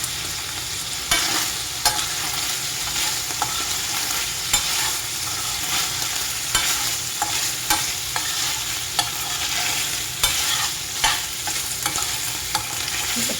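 Food frying in oil once the water has cooked off gives a steady, close sizzle, broken by regular clicks and scrapes of stirring in the pan.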